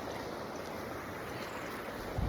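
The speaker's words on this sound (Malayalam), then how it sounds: "ഇതാണ് ആ വെള്ളച്ചാട്ടം" Adayappara waterfall roaring as a steady, faint, even wash of falling water, continuous and without talk, with a slight swell at the very end.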